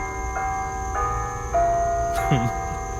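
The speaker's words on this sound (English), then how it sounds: "we have one of the happiest churches around. They love to play the bells." Church bells ring at a moderate distance, with several spaced tolling strikes carrying over steady background hum and a faint voice.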